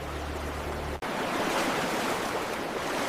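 Raging river currents rush in a broad, steady wash of water noise, loud and continuous after a brief low rumble cuts off abruptly at the start.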